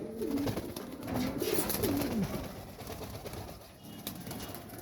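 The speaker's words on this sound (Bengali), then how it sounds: "কবুতরতে ব্যাক করছে" A male racing pigeon coos in soft, repeated low warbling phrases at close range over a steady background hiss, with no talking.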